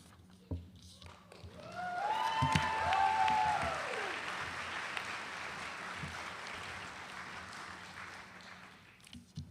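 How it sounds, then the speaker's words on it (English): Audience applause at a University of Alaska Southeast Juneau commencement ceremony in 2024, building to a loud sustained clapping that fades out gradually, with a few whistles or cheers near the start. "Well done on the applause."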